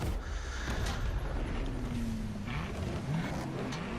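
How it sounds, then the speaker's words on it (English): A Toyota Tacoma pickup truck engine drones steadily in The Crew: Motorfest, with a low rumble and pitch that rises gently as it accelerates. "I can drive the Tacoma."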